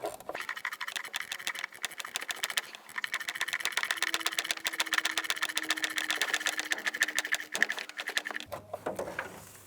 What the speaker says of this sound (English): On the back bolts, I switched over to a gear wrench for clearance purposes.